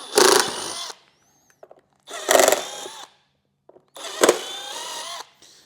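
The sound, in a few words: power drill drilling holes for motorcycle speaker mount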